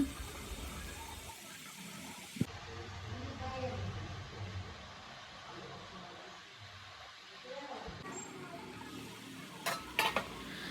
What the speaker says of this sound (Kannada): ಲಿಡ್ ಕ್ಲೋಸ್ ಮಾಡಿಕೊಂಡು ಒಂದು 5 ನಿಮಿಷ ಫ್ರೈ ಮಾಡ್ಕೊಳ್ಳೋಣ